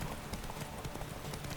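Roach the horse galloping in a race in The Witcher 3, a quick steady clatter of hooves, faint and brief with no talk.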